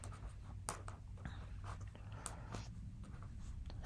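Pen or marker writing an equation by hand during a precalculus lesson, a faint series of short scratchy strokes and taps with small pauses, close and quiet over a low steady background hum.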